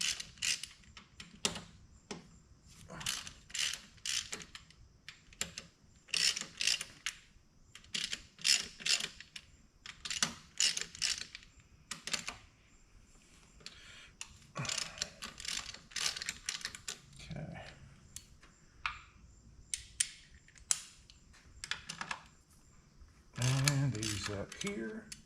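A ratchet wrench loosens 9/16 bolts on a David Brown 880 tractor gearbox, giving repeated quick clicking bursts close up with pauses between them, and a brief clank near the end.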